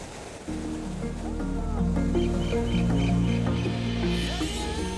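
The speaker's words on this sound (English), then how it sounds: "The roar of the falls gives me goosebumps on my entire body." A constant, heavy rush of falling water from Victoria Falls fills the clip, with a melodic music track playing over it.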